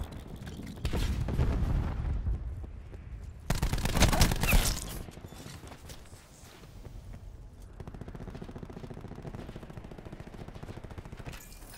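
Cluster grenade blasts in Call of Duty: Black Ops 4, several loud booming bursts with rattling, gunfire-like crackle, a heavy burst near the start and another mid-clip, then a softer sustained rumble.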